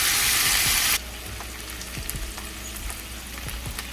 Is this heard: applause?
no